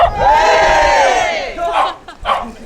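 A group cheering together for a person named Amy at a festive run club session, a loud sustained collective shout that rises and holds before fading into scattered voices and bursts of whoops.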